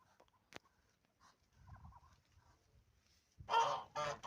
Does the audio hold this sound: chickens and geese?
yes